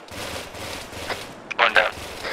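Bursts of automatic gunfire crackle in a Vietnam War jungle video game, with short rapid volleys that sharpen toward the end, mixed with ambient game sound and voices.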